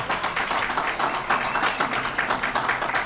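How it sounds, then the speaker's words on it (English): Town hall audience applauding panelists at a budget meeting, a dense, steady wash of many hands clapping throughout, fairly loud and close, with no talk over it. "Let's give a big round of applause to all of our panelists tonight"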